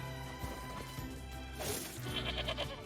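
A sheep in NieR Replicant gives a wavering bleat against ongoing game music, followed by a crash-like burst and a shaky, pulsing cry that trails off near the end.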